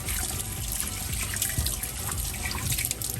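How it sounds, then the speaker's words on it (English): Tap water pours steadily over a forearm into a sink while rinsing a fresh tattoo, a continuous close splashing hiss with no voices. "Just let the water run."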